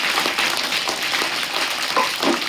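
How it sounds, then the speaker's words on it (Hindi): Audience applause at a Thursday prayer gathering, a steady wash of many hands clapping together for the whole stretch, moderately loud and close, with no talking over it. "बहुत अच्छा बताइए, इसके लिए जोरदार ताली से स्वागत कीजिए।"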